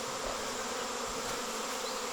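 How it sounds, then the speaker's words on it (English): A honeybee swarm in autumn fills the air with a dense, steady buzzing of many bees at once, continuous and fairly close with no pauses. "I come back out and the bees are swarming."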